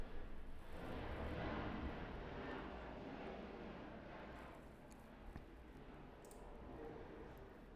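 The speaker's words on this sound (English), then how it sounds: "Sorry about the plane." An airplane passes overhead with a faint, steady droning roar that swells early and slowly fades, heard alone without talking.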